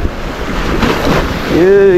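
Strong waves surge at a rainy shore in a loud, continuous rush with heavy wind buffeting the microphone, and a brief tonal voice or horn-like sound near the end.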